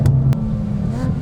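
Mercedes A35 AMG exhaust note: a loud, close, steady low engine drone with a brief dip and swell in pitch over a second or so.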